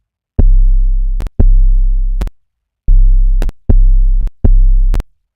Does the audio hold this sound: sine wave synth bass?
yes